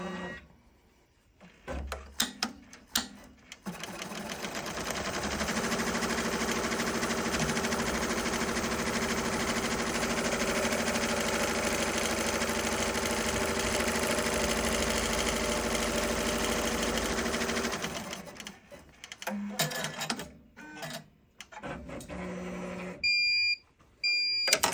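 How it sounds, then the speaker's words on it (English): Smartstitch embroidery machine stitching a 100mm design in a Hooptech or Mighty Hoops frame: a steady mechanical whirring hum runs for about fifteen seconds, framed by shorter stops and starts, ending with a few beeps. "So let's stitch it and see."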